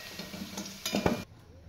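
Potatoes fried in oil are lifted out of the pan: a soft, quiet sizzle with a couple of metal utensil scrapes and clinks near the end, then the sound drops away.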